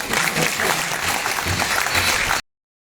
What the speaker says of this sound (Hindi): अब तालियां तो आप ऐसे बजा रहे हो